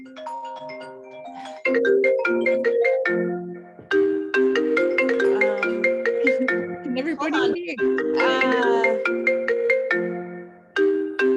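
A phone ringtone plays a repeating melodic chime loudly over about eleven seconds, with brief pauses between bursts, while a person speaks over it.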